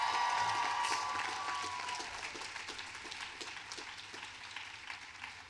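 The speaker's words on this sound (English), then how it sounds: "Big round of applause for them." Audience applause for faculty at the 2019 Wheaton College commencement ceremony, a broad wash of clapping from a large crowd that slowly fades over several seconds, with a few distant cheers.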